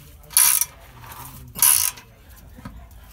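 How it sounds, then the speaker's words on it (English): A hand ratchet clicks twice in short bursts while tightening an exhaust clamp on a Dodge Cummins 5.9 truck with a stainless exhaust, close and sharp, followed by a faint tap. "I'm going to use a ratchet to get it started and to hold it"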